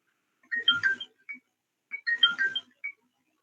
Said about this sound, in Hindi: मेरे पास फोन आ रहा है।